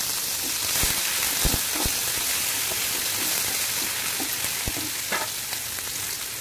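Chopped onions and tomato sizzle in a pan on a gas flame, a dense, steady frying hiss with a few soft clunks from stirring.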